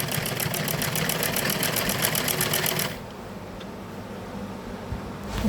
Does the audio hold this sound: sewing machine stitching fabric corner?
yes